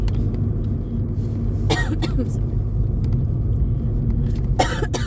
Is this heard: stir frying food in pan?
no